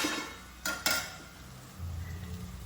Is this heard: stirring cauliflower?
yes